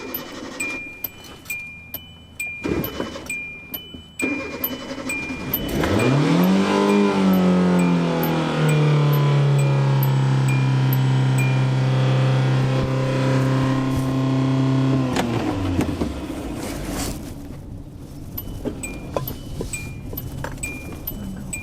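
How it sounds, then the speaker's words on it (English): After a few clicks and rattles, a car engine is started with the key, roars up into a loud, sustained rev with a rising then steady pitch for about ten seconds, then cuts off, leaving quieter rustling. "I have to turn the key, rev the gas, get a little bit of power behind the throttle, shift to drive, and then start moving."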